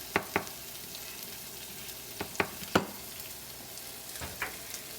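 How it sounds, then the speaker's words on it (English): Onions fry in a pan for pork fried rice, a steady soft sizzle broken by a few sharp clicks and scrapes of stirring, all fairly quiet with no voices. "while I'm waiting for my onions to cook"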